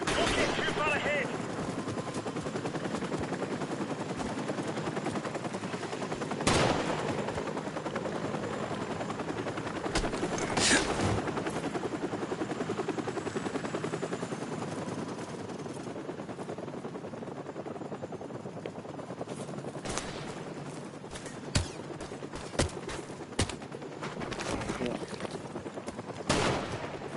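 Gunfire in Call of Duty Modern Warfare Remastered: scattered sharp shots and short bursts over a steady helicopter drone, some shots louder and nearer, with voices talking in between.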